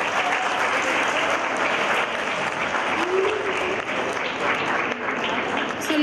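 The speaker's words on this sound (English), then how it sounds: "Let's give them a big round of applause." A lecture-hall audience at a school leadership lecture series applauds steadily, a dense, loud wash of clapping that holds evenly for about six seconds without letting up.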